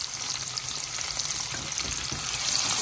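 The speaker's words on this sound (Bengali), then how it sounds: "এখন আমি দিয়ে দিচ্ছি কেটে রাখা যে কুচি রসুন ছিল রসুনগুলো, তারপর দিচ্ছি পেঁয়াজ কুচিগুলো," Chopped garlic and onion fry in hot oil in a pan for nihari, giving a loud, steady close sizzle with light stirring and no talking.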